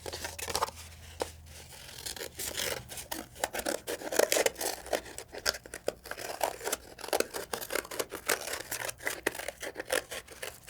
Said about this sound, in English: We're going to actually cut our plate to make it fit.